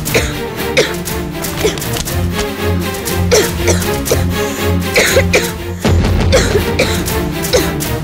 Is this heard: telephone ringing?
no